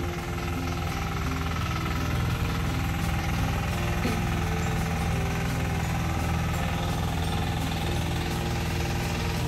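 Many motorcycle engines rumble steadily nearby in a Philippine village street, a continuous low droning hum with no distinct pass-bys standing out, moderately loud with no speech.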